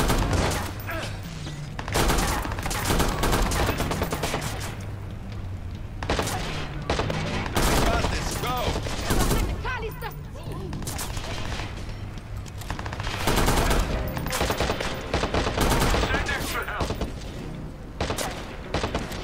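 Bursts of assault rifle fire in the Watch Dogs video game, repeated volleys of loud, dense shots with short pauses between them, sustained over the whole stretch against a busy game mix.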